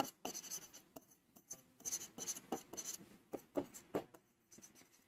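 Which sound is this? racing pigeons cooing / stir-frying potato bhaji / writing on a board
writing on a board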